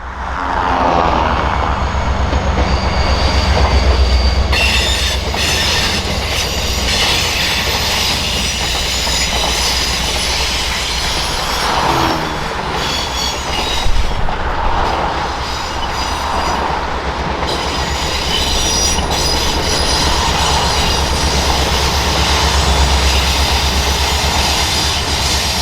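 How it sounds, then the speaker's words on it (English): A northbound Alaska Railroad train rumbles past close by over Indian Creek at Turnagain Arm, a loud continuous roar of engines and rolling wheels that swells and holds steady throughout. "We would catch a northbound train passing over the Indian Creek as it lets out into the Turnagain Arm."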